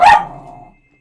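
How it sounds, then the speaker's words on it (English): A single close, loud dog bark with a sharp onset that trails off into a short fading tail, alone with no talk. "yeah, that's my dog there"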